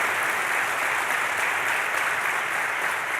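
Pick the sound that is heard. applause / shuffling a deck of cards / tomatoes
applause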